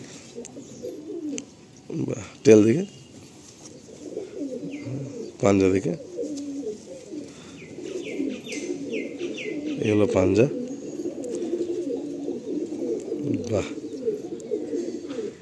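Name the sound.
Madrasi pigeons cooing in a loft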